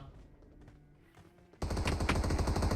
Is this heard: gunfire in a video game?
yes